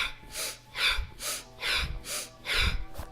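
Rhythmic pumping breaths of a Kundalini breathing exercise, six strong airy exhales and inhales in a steady cycle about every half second, close and fairly loud with no talking.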